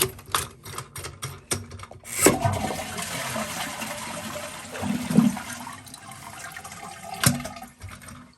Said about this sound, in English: When we flush it